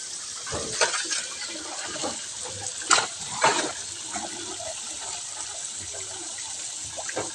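Water gushes from a rusted, leaking hose line on a household water supply, a steady hiss of spray with a few louder splashing bursts, close by and without talk.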